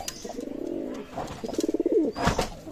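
A Pakistani Batera pigeon, one of a running pair, coos close by in a few rolling, throaty phrases with brief gaps between them, clear and alone.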